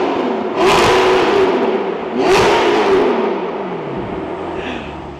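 An Audi R8 fitted with a CobraSport exhaust, valves open, revs hard twice in quick succession, each loud rising roar falling away into a rumbling idle up close.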